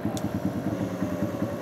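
Drag motorcycle fitted with two Ninja two-stroke engines idling with a rapid, uneven pulsing burble, loud and close, alone without talk.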